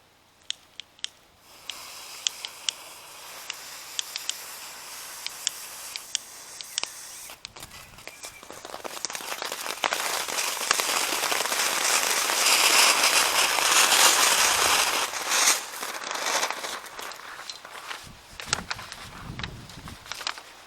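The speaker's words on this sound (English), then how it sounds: "And I'm going to light these fireworks." Fireworks are lit during a church Pentecost presentation; scattered crackling pops give way to a loud, sustained hissing spray that tapers off, with sputtering bursts near the end.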